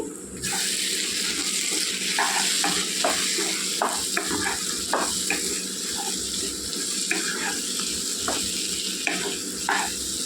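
Chili powder frying with cooked raw-mango pieces in hot oil for a brinjal curry, a steady close sizzle with scattered clicks of stirring throughout.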